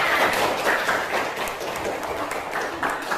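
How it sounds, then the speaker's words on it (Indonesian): A classroom group claps together in a steady, dense patter of applause lasting a few seconds, moderately loud and close. "Tepuk tangan."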